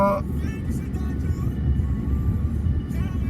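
Cars streaming past on a road near a canal, a steady rumbling traffic wash close by with a voice speaking over it.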